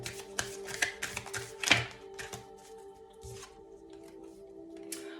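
Tarot cards are shuffled and riffled up close, a series of crisp flicking snaps and slides coming in quick bursts, then tapering into quieter handling.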